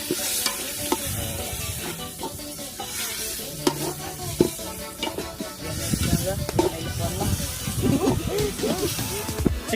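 Chicken frying for biryani on a farm cook-out, with a steady sizzle and repeated scraping stirs close by, voices talking intermittently over the cooking.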